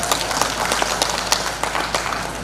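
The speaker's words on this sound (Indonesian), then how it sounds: "Luar biasa, tepuk tangan lagi ini." A seated crowd claps steadily at the official inauguration of a dairy cattle farm in Wlingi, Blitar, dense applause of many hands heard close and without pause.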